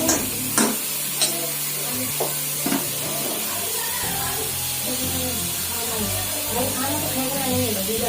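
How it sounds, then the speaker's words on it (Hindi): Onions frying for dal tadka crackle steadily in a pan while being stirred constantly, with sharp clinks and scrapes over the sizzle close up. "चलाते हमेशा रहना है, इसको रोकना नहीं है। एक जगह रुकने पर प्याज जल जाती है।"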